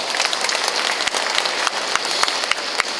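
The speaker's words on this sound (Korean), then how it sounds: "네, 오늘 좋은 말씀 나눠주신 준환 스님께 다시 한번 큰 박수 부탁드립니다." A seated audience at the 2024 Seoul International Buddhism Expo gives a steady, dense round of applause after a monk's sermon, many hands clapping at once with a few sharper claps standing out, and no speech.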